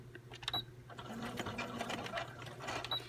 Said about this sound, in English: I just take my sewing machine and I'm going to sew all the way around here.